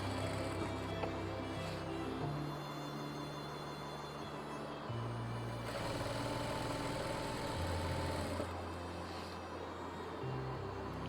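A sewing machine runs steadily while stitching along the elastic side of a palazzo, giving a continuous motor hum with shifting tones and no breaks.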